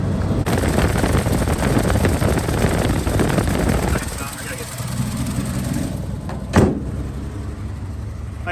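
A 1968 Chevrolet C10 with a 250 inline six, sitting over a decade, idles with a rough steady rumble that drops lower and quieter partway through, with a brief clunk near the end.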